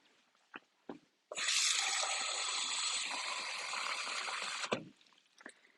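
Water runs hard from a tap into a container for a Thermomix varoma steamer, a loud steady gush of about three seconds between quieter kitchen knocks.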